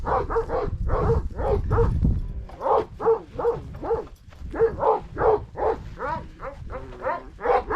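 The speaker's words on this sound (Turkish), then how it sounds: "Bu da yabancı meraklı bir köpek var." A young farm dog barks repeatedly in quick bursts, close by, with short pauses between runs of barks.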